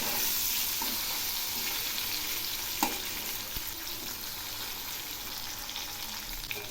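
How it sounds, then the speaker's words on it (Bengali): Green tomatoes fry in hot oil in a pan, a loud continuous close sizzle with occasional scrapes and a sharp clack of the spatula as they are stirred. "এই টমেটোগুলো এই তেলের মধ্যে খুব সুন্দর করে ভেজে নেব।"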